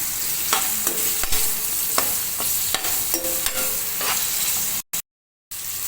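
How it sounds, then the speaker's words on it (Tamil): Onion, tomato and garlic sautéing in a pan for a tamarind gourd curry, a steady loud sizzle with repeated sharp scrapes and clinks of a stirring spoon, then a brief cut to silence near the end. "வெங்காயம் தக்காளி பூண்டு எல்லாம் சேர்த்து நல்லா வணக்கிக்கலாம்"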